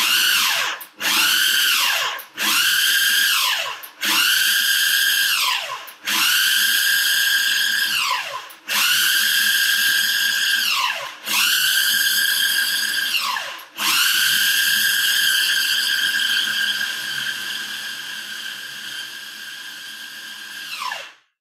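Food processor pulses a gluten-free Christmas cookie mixture in about eight loud whirring bursts, each rising and falling in pitch, then one longer run that winds down.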